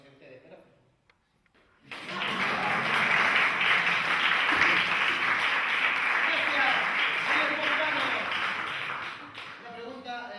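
An audience in a theater hall breaks into sustained applause after a brief quiet moment, dense clapping holding steady for several seconds before tapering near the end.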